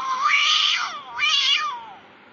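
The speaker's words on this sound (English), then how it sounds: "Cat." A domestic cat gives two drawn-out meows in quick succession, the first longer and the second slightly shorter, close and clear with no talk around them.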